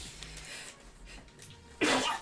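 A single sharp sneeze bursts out near the end, loud and close, after a couple of seconds of quiet breathing and faint room noise.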